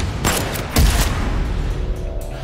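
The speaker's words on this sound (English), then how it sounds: "A few minutes later, gunshots." Gunfire in a crime thriller film trailer, several sharp bursts close together with a heavier booming shot in between, then a fading echo, loud and with no talking.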